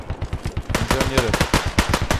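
Rapid automatic gunfire in the military shooter game Squad, bursts of close, loud shots rattling in quick succession with a voice talking over the firing.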